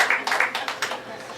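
A small show audience at a bar and grill claps in a short burst of scattered, uneven hand claps that fade out within a second or two.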